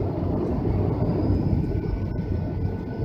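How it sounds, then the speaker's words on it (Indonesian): A passenger airplane's engines roar as it prepares for takeoff from an airport, a heavy, steady low rumble heard from inside the cabin, loud and continuous with no talk. "Suara pesawat mulai menderu."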